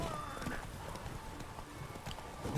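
Horse hooves clip-clop steadily while riding in The Witcher 3, a moderately loud trotting rhythm beneath game ambience, with a voice talking over it.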